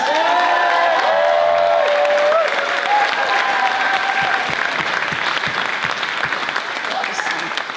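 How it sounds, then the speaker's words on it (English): Loud, dense audience applause fills a ballroom at a charity's 20th anniversary ball, sustained throughout with some whistling or cheering tones on top and no speech over it. "can we just give them another big round of applause?"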